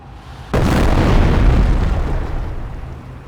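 Incendiary mortar barrage in the World War II strategy game Company of Heroes: one sudden, loud explosion bursts in and rumbles on as a sustained, deep roar that slowly fades, with no talking.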